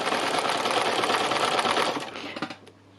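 A sewing machine stitches fabric with a steady, fast, close mechanical whir that slows and winds down over the last second before stopping.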